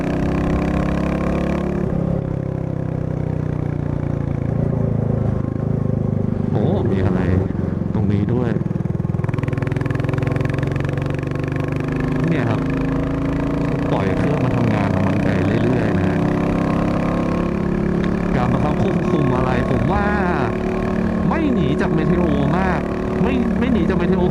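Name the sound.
Royal Enfield Classic 350 motorcycle riding and overtaking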